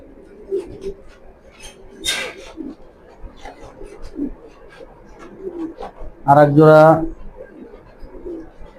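Racing pigeons in a loft giving low throaty coos, faint intermittent calls punctuated by one loud burst of cooing close by, with someone talking intermittently over them.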